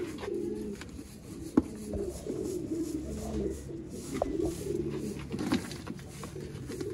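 Pigeons cooing close by in a loft of pigeons bred for competition flying, with low repeated coos layered over each other and a few sharp clicks and wing flutters, steady and moderately quiet throughout.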